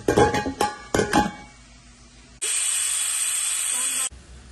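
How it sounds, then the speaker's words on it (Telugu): A pressure cooker of sambar lets out one loud, sustained steam whistle of nearly two seconds, then falls quiet. Before it, a few sharp clinks ring out, followed by a faint low hum. "ఒక 3 విజిల్స్ వస్తే చాలు, అంతా మరిగిపోతుంది"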